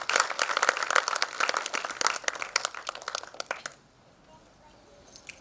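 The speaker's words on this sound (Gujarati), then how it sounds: "આ સ્વાગતને આપણે સૌ તાળીઓથી વધાવી લઈએ." An audience at a Gujarati literary felicitation event bursts into lively, close clapping for several seconds, then the applause stops abruptly and the room falls almost quiet.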